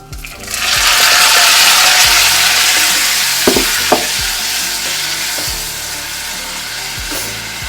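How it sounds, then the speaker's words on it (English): Tomato dropped into very hot oil with popping mustard seeds over the highest heat, bursting into a loud, sustained hiss that eases slightly, with a couple of utensil knocks partway through. "I'm going to put the tomato in."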